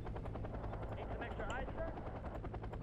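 A military helicopter in the Wargame: Red Dragon strategy game, its rotor thrum steady and loud throughout amid game battle noise, with a person talking over it.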